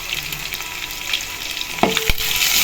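Onions fry in oil in a pan on a low flame for vegetable pulao, giving a dense, loud, continuous sizzle up close, with a couple of brief clinks from stirring near the end and no talking.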